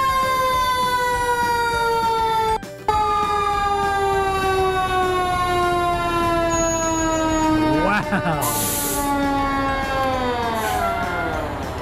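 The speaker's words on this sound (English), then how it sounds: "Did you guys hear that horn? That was really, really loud." A fire truck at a fire station blasts a loud, sustained horn, its harmonic tones sliding down in pitch. A siren wails underneath, and a brief exclamation from a nearby voice cuts in.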